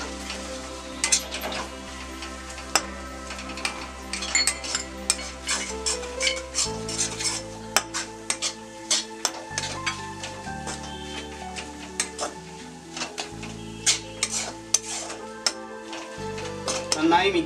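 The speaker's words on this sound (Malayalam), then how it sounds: "നമുക്കിനി ഇതെല്ലാം ഒന്ന് മിക്സ് ചെയ്ത് കൊടുക്കാം." A spoon stirs turmeric and garam masala into a Kerala-style egg roast masala in a pan, scraping and clinking over a soft steady sizzle, with background music underneath.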